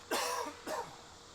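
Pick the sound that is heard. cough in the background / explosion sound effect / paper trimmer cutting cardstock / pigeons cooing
cough in the background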